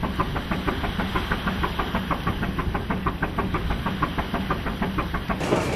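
A classic boat engine runs in a cramped engine room, a steady close mechanical clatter with a rapid even knocking rhythm and a constant low hum that holds without a break.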